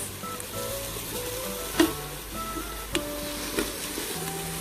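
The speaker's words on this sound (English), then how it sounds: "let our masala saute for another couple of minutes" Masala for Punjabi chole sautés in an Instant Pot with a low, even sizzle, punctuated by a few distinct stirring knocks of a spoon against the pot.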